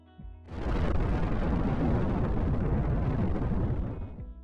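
Nuclear bomb explosion: a deep, roaring blast that surges in after a brief low thump and rumbles on loudly and continuously for several seconds before easing off, with no talk.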